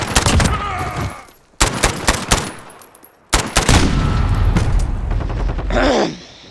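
Automatic bursts from an MP5 fitted with a compensator in the Modern Warfare video game, three sharp volleys separated by brief pauses, the last one long and sustained, loud and close.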